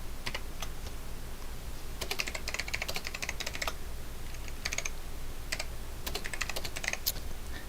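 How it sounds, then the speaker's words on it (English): Rapid, light keystrokes on a computer keyboard, heard in short bursts with brief pauses over a faint steady background hum and no one speaking. "let's try typing in lowercase."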